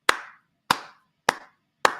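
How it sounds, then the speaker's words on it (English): Four sharp, separate hand claps land at an even, unhurried rhythm, each crisp and close with a short ring-off and silence in between, in a quiet podcast setting. "Luka Doncic, round of applause, sir."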